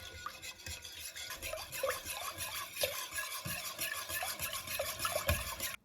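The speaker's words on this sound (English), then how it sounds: "take 2 eggs, add them one at a time and stir with the rest of the mixture until smooth" Two eggs are stirred into a custard mixture for a honey-custard cake, heard as quick, rhythmic, close stirring strokes at a soft level with no voices.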